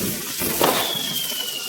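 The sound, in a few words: Deepavali firecrackers going off, peacock firecracker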